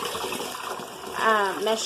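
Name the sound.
water running from tap into portable washer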